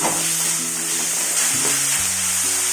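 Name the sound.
onions sautéing in a pan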